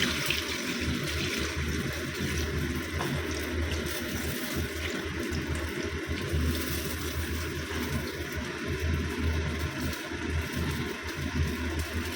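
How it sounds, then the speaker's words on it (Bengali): Water rushes steadily into a pan of tamarind chicken, a continuous close gushing and bubbling that stays loud and even throughout. "জল দিয়ে দিলাম।"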